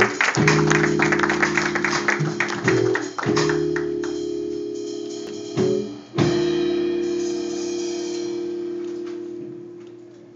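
A cafe audience claps steadily for about ten seconds while sustained musical tones hum underneath, briefly dipping twice before the clapping resumes.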